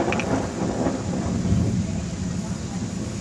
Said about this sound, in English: We just saw a big lightning strike down there.